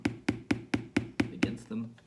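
A hammer nails a rubber heel onto a shoe, striking seven even, evenly spaced blows close by, followed by a brief shuffle.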